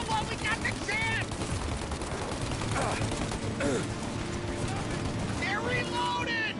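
Rapid gunfire bursts crackle through a shootout in Mafia Definitive Edition, steady and dense across the whole stretch, with voices shouting over the shots.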